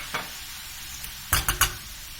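A tomato sizzles in butter in a pan, a steady low fry hiss broken by a few sharp scrapes of stirring near the end.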